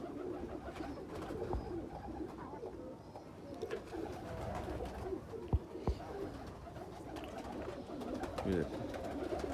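A Sialkoti pigeon coos softly in a low, rolling burble amid steady background noise and other birds, with a couple of sharp knocks partway through.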